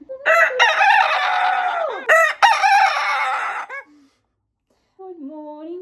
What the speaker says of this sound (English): My chicken screaming too